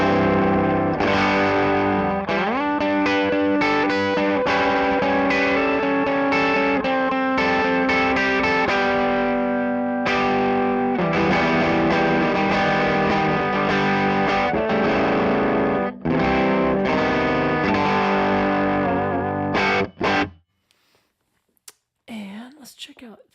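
Electric guitar played through a Pettyjohn Electronics Chime MKII pedal on a dark setting, a loud sustained stream of chorused, slightly distorted chords and picked notes that rings for about twenty seconds before cutting off into brief faint noises.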